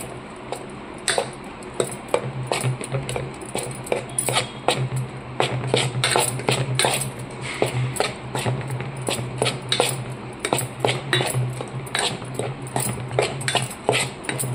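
Steady clinking of a spoon against a steel bowl while stirring moong dosa batter with a pinch of soda, a rapid, irregular series of close metallic taps over a low hum, no talk.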